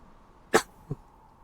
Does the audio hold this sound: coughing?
yes